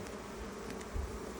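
Bees buzz steadily during a Langstroth beehive inspection, a continuous close drone of many insects with no talking.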